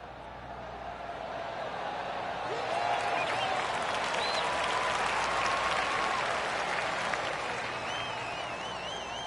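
Crowd applause follows a golf approach shot in the video game PGA 2K23, a steady dense clapping that swells slightly midway and holds at a fairly loud level throughout.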